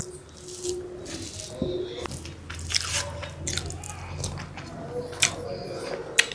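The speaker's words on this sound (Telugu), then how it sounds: "సిద్ధు తిని చూసి ఎలా ఉందో చెప్పయ్యా" Someone eating dry mutton curry mixed with rice, close wet chewing and soft squishing bites running throughout, with faint speech in the background.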